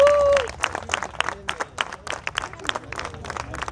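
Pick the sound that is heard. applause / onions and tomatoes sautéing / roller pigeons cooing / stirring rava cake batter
applause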